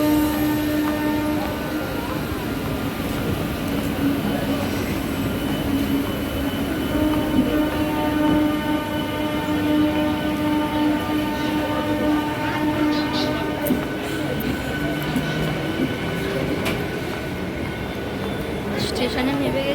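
A train moving through a station platform, with a steady loud rumble of wheels and rail noise throughout, some tonal hum and faint voices in the background.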